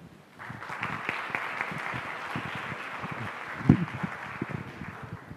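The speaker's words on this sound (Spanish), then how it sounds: "La recibimos con un caluroso aplauso." An audience at an endocrinology talk gives a warm round of applause to welcome a visiting doctor; steady clapping from a moderate crowd, with a sharp louder clap near the end as it continues.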